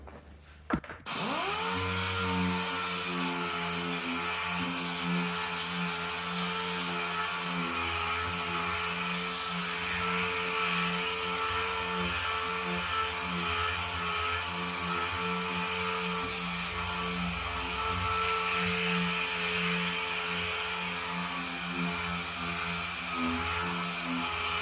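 Steady, loud whine of a polisher buffing the black paint of a Camaro with M-105 cutting compound, running continuously for the whole stretch after a brief bump at the start, with no talking.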